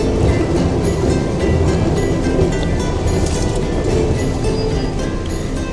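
A Darjeeling Himalayan Railway toy train eases slowly onto the track, giving a loud, steady rumble of running gear that carries on unbroken with no voices.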